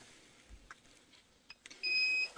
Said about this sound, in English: Also has a slight countdown starting at 3, 2, 1, and then it has the long beep to let you know that it's finished.